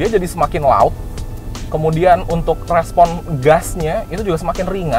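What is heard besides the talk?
None of the usual background noises is heard.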